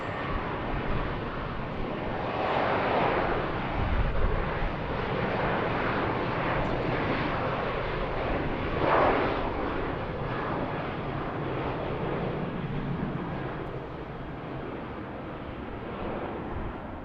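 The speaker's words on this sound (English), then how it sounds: "Our next Southwest departure." A Southwest Airlines jet departing from BWI airport produces a broad, sustained engine roar that swells gently and then eases slightly toward the end, heard alone without talk.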